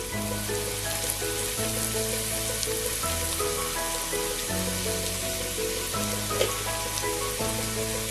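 Onions and salt sizzle and sauté in a pan for chicken thoran, giving a steady close frying hiss that runs without a break under a faint background tone.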